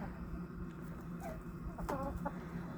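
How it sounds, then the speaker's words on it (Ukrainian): Australorp hens and roosters in an unheated outdoor enclosure in winter give faint, scattered clucks, a few short calls rising briefly over a constant low background hum. "нагодувала курочок і півничків, австралорпиків"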